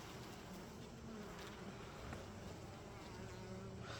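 Dense, continuous buzzing of many honeybees around a hive, steady and close, with no one speaking.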